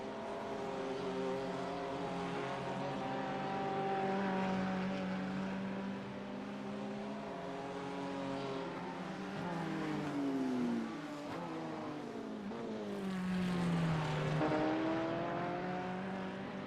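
GT3 race cars in a racing game lap the Bathurst circuit, their engines howling at a sustained high pitch and shifting up and down through the gears, with pitch sweeps as cars pass, steady and fairly loud with no talk.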